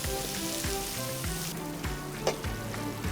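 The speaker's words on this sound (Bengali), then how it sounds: "চিকেনটাও কিন্তু অলমোস্ট ভাজা হয়ে গেছে" Chicken fries in a pan with a steady, close sizzle, over a soft repeating low hum and an occasional brief clink, with no voices.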